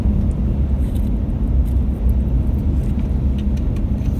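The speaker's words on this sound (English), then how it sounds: "What I've just done now is I've let it go into 4th gear overdrive." Car engine towing a 2.5-tonne load uphill in fourth gear overdrive, a steady low droning rumble with road and wind noise, continuous and fairly loud throughout.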